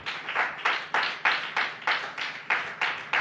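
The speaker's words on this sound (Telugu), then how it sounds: "కొట్ట చప్పట్లు గట్టిగా." An audience claps in a church gathering, a steady run of about ten loud, evenly spaced claps in unison, close and without speech.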